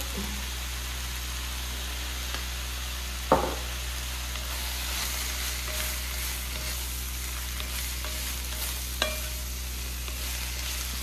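Garlic, bay leaf and tuna sizzle steadily in a frying pan, a close, continuous hiss. Two sharp utensil clicks stand out above it.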